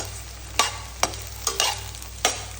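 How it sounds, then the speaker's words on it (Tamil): Cubed elephant foot yam sautés in oil, a low sizzle broken by several sharp scraping stirs of the pan, close by and without talking. "ஒரு 1 மினிட் இந்த ஆயிலில் வதக்குவோம்"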